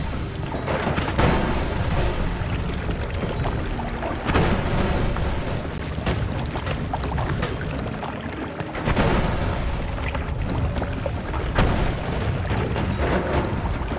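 Explosions in the video game Noita crackle and boom continuously, a dense, loud barrage of blasts with periodic heavier bursts.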